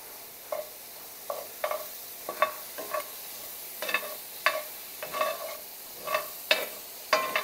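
Sausage frying in a pan with added butter, a quiet steady sizzle broken by repeated scraping and stirring strokes, close, with no talk.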